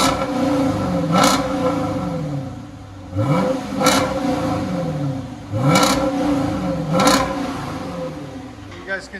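A Dodge Charger R/T with a 5.7L HEMI V8, mid mufflers deleted and Dynomax bullets fitted, revs up in four repeated rising bursts, each swelling loud and deep before dropping back to a rumbling idle, close by.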